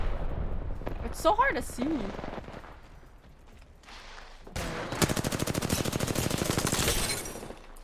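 Gunfire in Apex Legends: a dense, rapid burst of automatic shots fills the latter half, loud and close, after earlier scattered sounds and a person talking.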